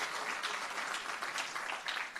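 Audience applause at a tourism network event, a steady wash of clapping from a crowd that holds at even loudness for a couple of seconds with no talk over it.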